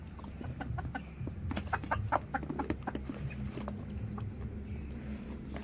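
A mother hen and other chickens cluck softly on a rural Thai homestead, scattered short clucks and calls at a modest distance, faint and irregular over a low background hum.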